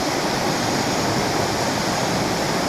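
A mountain stream flows, a dense, steady rushing of water that fills the clip at an even, fairly loud level with no breaks or voices.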